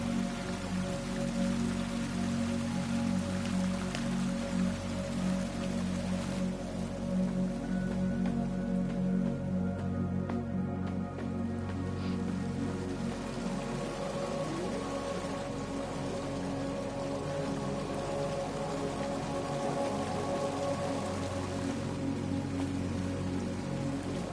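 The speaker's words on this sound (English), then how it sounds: "It's supposed to be reminiscent of a waterfall." Steady water ambience like a waterfall in the video game A.E.R., a continuous rushing, rain-like wash with a low hum beneath, unchanging and alone throughout.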